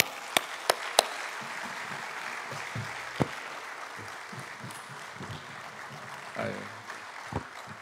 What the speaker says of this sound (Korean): 이제 나오실 때 박수로 환영하겠습니다